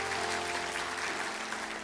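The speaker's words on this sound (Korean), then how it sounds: "우리 박수로 맞아주십시오" A church congregation at Irvine Onnuri Church's Sunday service applauds to welcome a new middle-school youth pastor, soft, fairly distant clapping over a sustained tonal hum in the hall.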